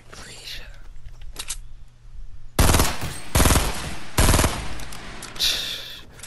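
Burst rifle in the video game Fortnite firing three loud, close bursts of rapid shots in quick succession, with quieter game sounds and faint whispered talk in the gaps.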